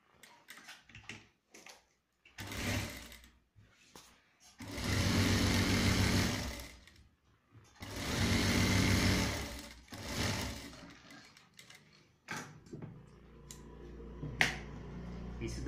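Sewing machine stitching the seam of a men's churidar pajama, running in bursts of a few seconds separated by pauses and handling noises, with longer steady runs in the middle.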